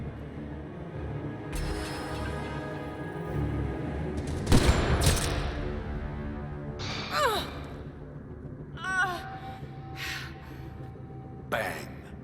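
Sniper rifle shot in the video game Mass Effect: Andromeda, a sharp loud crack standing out midway through a cutscene, surrounded by talking voices, a gasp and scattered softer impacts and effects.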